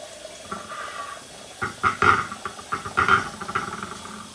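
Water runs from a kitchen tap into a crock pot being filled for cooking jicama, a splashing, gurgling pour that swells and pulses over a few seconds, close by.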